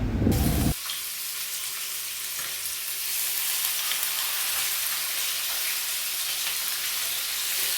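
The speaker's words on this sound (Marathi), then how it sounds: "तेल पण गरम झालं आहे आता मी ही चिवणी तेलावर सोडते" Chivni fish goes onto hot oil on a flat iron tawa over a gas flame, giving a sharp splash followed by a loud, steady, close sizzle that holds without pause.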